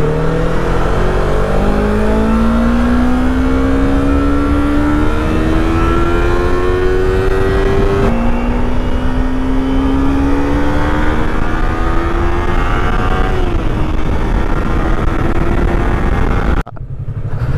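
Yamaha R3 twin-cylinder motorcycle exhaust note while riding, a steady droning engine tone that climbs gradually through the gears, with a brief dip and rise midway, loud and continuous over wind noise before cutting off near the end.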